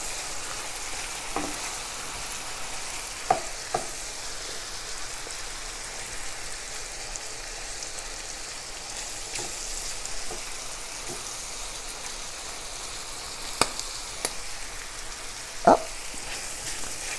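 Chopped garlic frying in a pan for Louisiana jambalaya gives a soft continuous sizzle broken by a few sharp pops, spaced irregularly across the clip.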